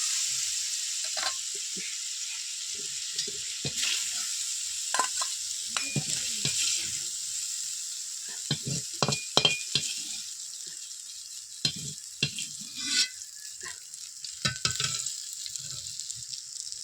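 Shrimp frying in a pan, a constant close sizzle broken by repeated scraping and clattering stirring strokes, with no voices.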